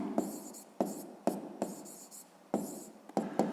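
Hand-writing an algebraic expression on paper for a fifth-grade maths exercise: a close run of scratchy pen strokes broken into about six bursts, each starting with a sharp tap, with no talking.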